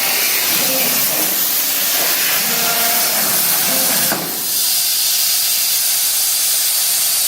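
An Idea Foundry CNC plasma cutter runs with a loud, continuous hiss, close and steady, with a brief change at around four seconds before the rushing noise carries on.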